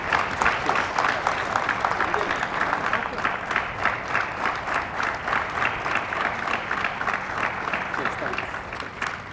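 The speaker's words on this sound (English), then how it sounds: "So I'll request you to give a standing ovation to Lakshman" An audience claps in a standing ovation, with dense, steady applause that carries on evenly throughout.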